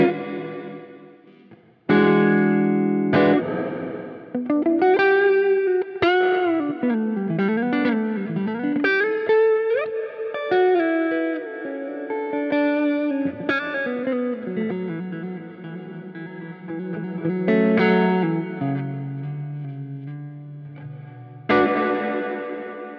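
Electric guitar played through the ducking reverb setting of a Line 6 DL4 MkII pedal with heavy ducking and pre-delay: picked notes and chords ring out alone, with a reverb tail that swells between phrases and pulls back while playing.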